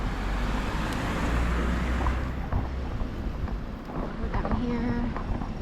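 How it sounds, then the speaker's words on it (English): A car passes along a busy city street near Washington Square West, a steady low rumble of traffic and wind up close that eases off partway through, with faint street sounds after. "So let me wait for this car here."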